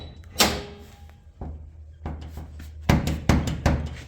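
A hood on a 1985 Toyota pickup over a new Duralast radiator is dropped several times, producing a sharp metallic thunk followed by a series of duller knocks and bangs that do not latch, close and fairly quiet.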